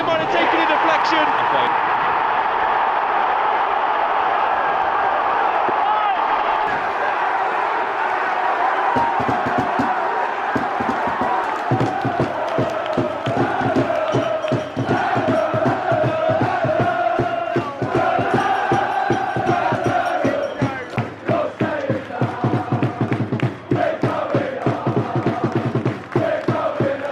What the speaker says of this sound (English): the away crowd goes wild